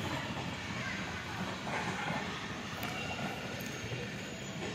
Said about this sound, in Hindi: वो सामने से ट्रेन गुजर रही है